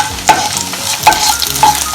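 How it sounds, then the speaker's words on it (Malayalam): Whole dried red chillies fry in hot oil for tempering an egg curry, a loud steady sizzle broken by a few sharp stirring scrapes. "വറ്റൽ മുളക് ഞാൻ പൊട്ടിക്കാണ്ട് തന്നെയാണ് ഇടുന്നത്."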